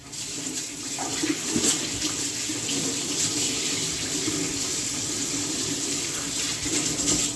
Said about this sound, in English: I'm just going to give my hands another wash